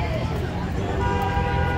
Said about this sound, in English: one taxi driver honking at the other one who almost rear-ended the one.